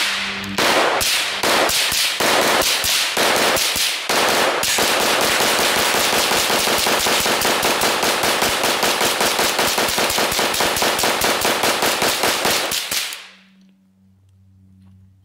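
A video game pistol fires into the ground: a few separate shots, then a long rapid volley of sharp cracks in quick succession for about ten seconds before stopping abruptly into quiet.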